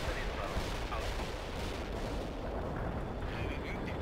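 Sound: artillery fire in the video game World in Conflict

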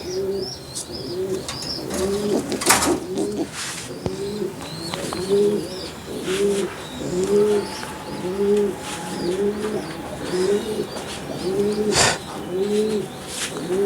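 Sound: racing pigeon hen cooing while held

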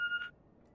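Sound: telephone ringing in The Walking Dead video game

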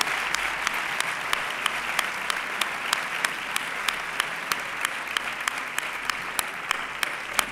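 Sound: audience applause

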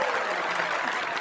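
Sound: audience applause in a casino scene

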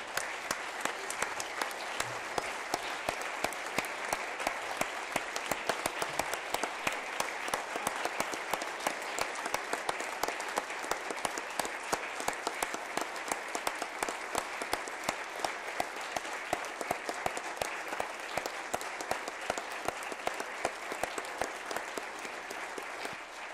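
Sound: audience applause for the pages

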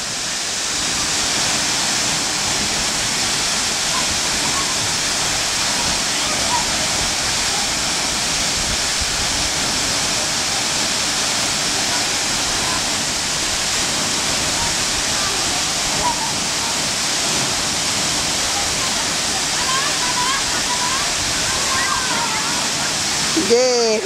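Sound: waterfall rushing water

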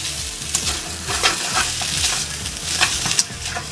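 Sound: stirring spaghetti with frying pancetta in a pan

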